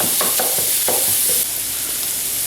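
Onions sizzle and caramelize in a skillet, a steady loud frying hiss with a few brief stirring scrapes near the start and no talking.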